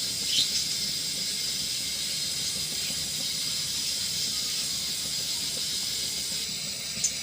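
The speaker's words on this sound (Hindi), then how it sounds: "ऑयल गरम हो गया है, ये देखिए हरी मिर्चें डाल देते हैं। थोड़ा फ्राई करेंगे इसको।" Green chillies frying in hot oil in a pan give a steady, even sizzle and hiss that runs unbroken for several seconds at moderate loudness, with no voices over it.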